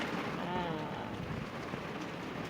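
Afternoon rain from a summer thunderstorm in Florida falls as a steady, dense patter and hiss on surfaces, with a faint voice murmuring briefly in the background.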